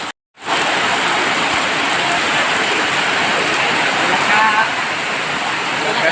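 Heavy rain pours down steadily outside a store in Bayog, Zamboanga del Sur, a dense, loud, unbroken roar of water that starts after a brief silent moment and holds at full strength throughout.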